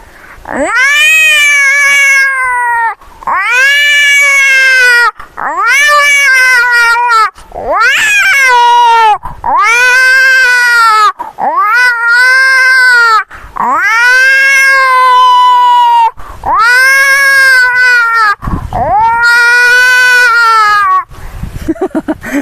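A human voice imitates cats fighting, with loud drawn-out yowls and caterwauls repeated about nine times with short pauses between.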